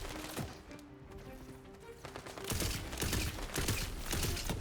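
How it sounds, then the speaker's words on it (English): Shotgun blasts in the video game Tiny Tina's Wonderlands begin after a quieter stretch with tonal background sound. Repeated loud shots then follow in quick succession. "Stunning them with a shotgun."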